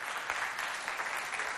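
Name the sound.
applause for the pupils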